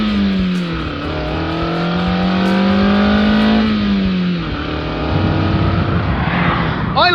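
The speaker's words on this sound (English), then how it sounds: "This is a 181 horsepower, naturally aspirated, 4-cylinder engine." A 2024 Mazda MX-5 roadster's 181-horsepower naturally aspirated 4-cylinder engine revs up and holds high, dips, then climbs again, loud and close with a rising whine, no talk.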